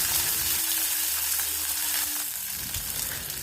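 Green chillies and garlic cloves frying over a medium flame give a steady, close, loud sizzle and crackle that runs unbroken the whole time.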